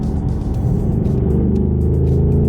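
A blue Ford Mustang Dark Horse with a manual gearbox and Brembo brakes accelerates in normal mode, its engine a loud, steady, close rumble that holds strong throughout with no voices.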